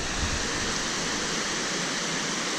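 River water rushing beneath the old bridge in Mostar, a dense, steady roar of flowing water, close and loud, with no voices.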